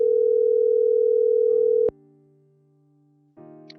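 A steady electronic telephone tone plays while a call-in line connects, holding loud and alone for nearly two seconds, then dropping to a quieter tone before a brief new tone begins.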